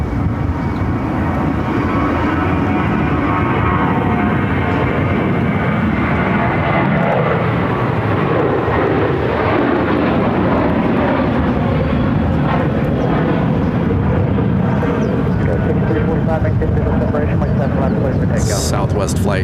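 Southwest Airlines Boeing 737-700 jet at Phoenix airport, a steady loud engine roar that swells and holds for the whole stretch, with voices talking over it.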